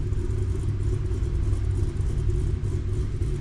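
A Camaro engine rumbles steadily up close, a deep continuous low drone with no pauses and no voices.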